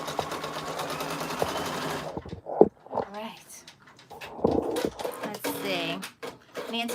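A Brother Persona embroidery machine stitches an appliqué Christmas shirt with a fast, dense mechanical whir, then stops, trims the thread with a few clicks and shifts position before resuming. Someone talks over the pauses.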